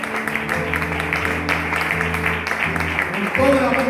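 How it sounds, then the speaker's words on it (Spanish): A church congregation in Los Mallos applauds at a tribute to two elderly members, a dense wash of clapping under a loud, continuous speaking voice. "Hay que dar un aplauso grande para ellos, de bendición"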